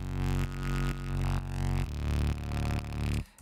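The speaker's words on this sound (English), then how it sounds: "And here is a bass patch called Zedit." Deep synth bass patch from an EDM sound set, sustained thick low notes changing pitch every half second or so, loud and alone with no voices, cutting off near the end.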